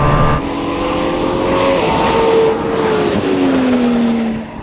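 A Pagani Huayra and a Ferrari SP3 race past, with a loud high-revving engine scream that rises and falls in pitch as the cars accelerate and shift, close by, then cut off abruptly.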